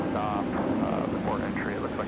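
Aircraft taxi at snowy Minneapolis–Saint Paul airport, giving a steady, distant engine drone with a person talking over it throughout.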